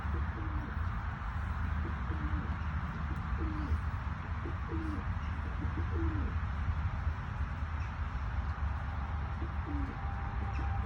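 Soft repeated cooing of pigeons in a coop, several calls spread through a steady hum of background noise, nearby and continuous.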